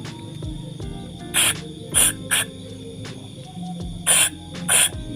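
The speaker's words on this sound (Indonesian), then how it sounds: "Lanjut kita semprot dari bagian sini" Short hissing bursts of spray aimed at motorcycle engine parts, five bursts in uneven rhythm over a steady background hum, close and moderately loud, with no talk.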